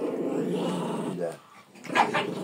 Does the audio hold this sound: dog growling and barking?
yes